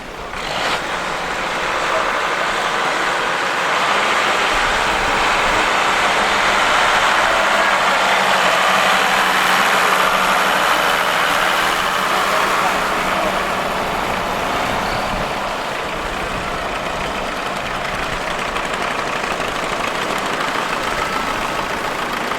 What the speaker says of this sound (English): it looks like I've got the start of our tractors coming into the arena now